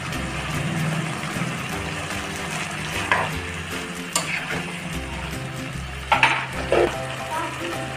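Tomatoes and curry leaves fry in a pan for a chicken curry, giving a dense, steady sizzle punctuated by several sharp spoon knocks as the mixture is stirred.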